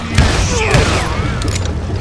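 Dynamite blasts and gunfire in the Call of Juarez: Gunslinger shooter game, with booming thumps and rattling bursts layered over a dense, loud battle soundscape.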